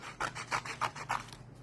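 Paper being trimmed to a smaller size for a Stampin' Up balloon party craft project gives a soft rasping cut in five quick, even strokes, close and quiet, with no talking.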